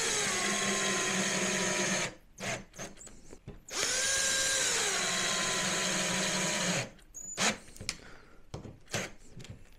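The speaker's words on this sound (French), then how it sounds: "la première lisse, première traverse, je vais pouvoir la visser" A power drill driving a screw into a wooden crossbar for a slatted headboard, two long steady whines broken by short stuttering bursts as the trigger is feathered, close and loud, with no one speaking.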